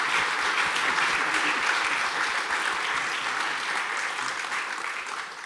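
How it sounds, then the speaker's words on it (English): An audience at a chamber of commerce talk claps in a continuous, even round of applause. It starts loud and tapers off gently near the end. "I think we got to clap for that one."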